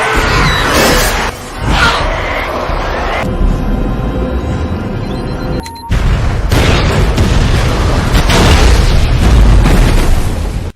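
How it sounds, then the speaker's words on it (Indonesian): A bomb explosion in a scene from the film I Am Legend: loud booming blasts with crackling debris and rumbling bursts, a short lull, then another sustained roaring wave of destruction. "Dr. Neville berniat akan meledakkan para Darkseeker dengan bom yang ia pasang di halaman rumahnya."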